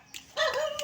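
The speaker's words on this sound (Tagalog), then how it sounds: "May aso dyan, sa kanila." A dog gives a short bark or yelp, brief and fairly close, with no talking.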